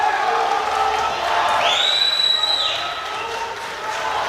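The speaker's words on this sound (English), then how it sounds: "The crowd are on their feet." A powerlifting world championship crowd cheers and whoops on its feet in an arena, a dense, loud roar of voices with a rising whistle-like shout near the middle, then settling slightly.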